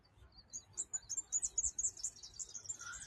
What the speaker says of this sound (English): Listen to all these little birds.